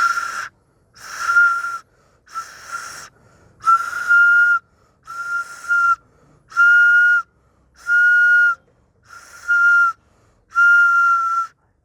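A homemade flute, played with breathy, airy notes in a row of about eight separate blows, each held briefly before a pause, close and fairly loud.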